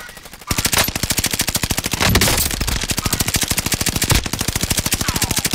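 Rapid automatic gunfire rattles nonstop in Call of Duty: Modern Warfare, a loud, evenly spaced burst of shots running for over five seconds with brief heavier impacts mixed in.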